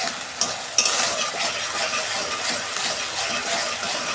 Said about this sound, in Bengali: এই যে আদা বাটাটা দিয়ে দিচ্ছি। এই যে 2 মিনিট আমি আদার কাঁচা গন্ধটা যাতে চলে যায়,